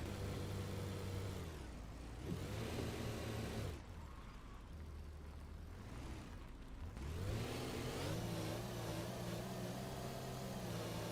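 Simulated car engine in the racing game Rennsport, revving and purring through repeated rises and drops in pitch, steady and fairly loud with a gap of lower engine tone midway.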